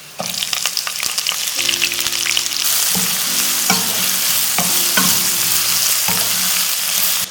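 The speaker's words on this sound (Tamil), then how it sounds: "அடுத்தது கட் பண்ணி வச்சிருக்கிற பெரிய வெங்காயம் சேர்த்துக்கலாம்" Chopped large onions hit hot oil in a pan with curry leaves and chillies, frying with a steady loud sizzle and occasional stirring clinks throughout, no talking.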